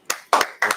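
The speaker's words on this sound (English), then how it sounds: "All right, let's clap it up one more time." Three sharp bursts of audience clapping at a religious class gathering, each short and loud, spaced evenly like a group clapping in unison.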